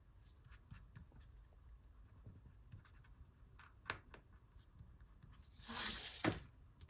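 Scissors cutting paper for a collage, a series of faint snips and scratchy rustles spread across the span, then a louder crinkling burst of paper handling near the end, no talking.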